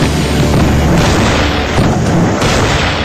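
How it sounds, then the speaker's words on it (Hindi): Bofors artillery guns of the Indian Army firing, a loud, dense roaring blast that fills the whole stretch with heavy low rumble and no pauses. "ये वो तोप है जो दुश्मन देश को विस्फोटक मौत देती आई है"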